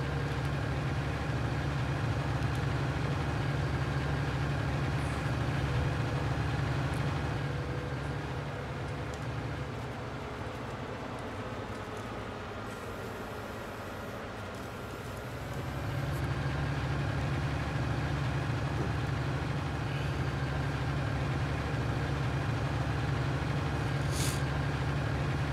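A large tractor engine idles in Farming Simulator 19, a deep, continuous rumble that dips slightly in the middle before settling back to a constant drone.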